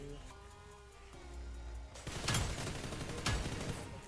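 Bursts of gunfire in the mobile battle royale game PUBG New State, two sharp loud volleys standing out over a steady game background with rattling shots between them.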